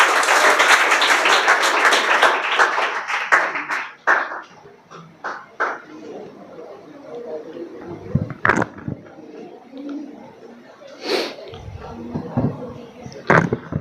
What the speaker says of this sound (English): Everyone, once again,